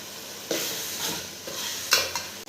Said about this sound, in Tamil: தயிர் ஊற்றிட்டேன், நல்லா மிக்ஸ் பண்ணி விட்டுட்டேன்